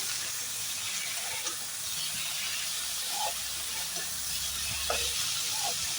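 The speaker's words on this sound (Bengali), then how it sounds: "এবার থোড় একটু ভেজে নিতে হবে।" Boiled banana stem seasoned with salt and turmeric fries in a pan with a quiet, even sizzle and hiss, broken by a few soft stirring sounds, with no talking.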